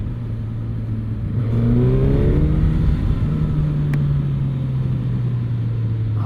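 A Suzuki GSX-S1000GT motorcycle engine, built around a GSX-R engine, revs up from a steady drone into a rising, rough roar and then holds a loud, even throttle close by.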